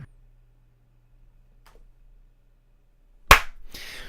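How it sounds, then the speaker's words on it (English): A single sharp hand clap rings out loud and close after near silence, followed by a brief rustle of noise. "Why are you clapping?"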